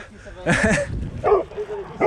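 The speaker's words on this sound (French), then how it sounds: "j'ai failli me faire bouffer par un chien là" A dog barks and yips at a passing mountain biker during a night ride, a few short, close, sharp bursts of barking with some breathy vocal noise between them.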